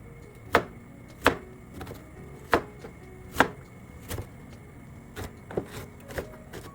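A knife chops ingredients by hand on a cutting board while preparing Bolognese, a series of sharp, close, single knocks at a slow uneven pace, about ten strikes with quiet gaps between.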